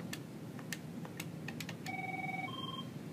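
Keypad tones on an Avaya 9650 desk phone: a quick series of short button beeps while an extension is dialed, followed by a few longer steady tones, close and clear.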